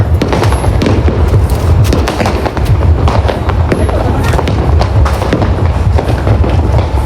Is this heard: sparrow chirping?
no